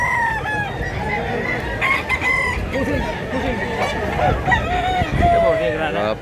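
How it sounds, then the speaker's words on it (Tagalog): Big Pualatom-colored gamefowl roosters in Mantalungon, Cebu crow loudly and repeatedly, their calls overlapping with close clucking throughout. "Napakagandang manok mga idol."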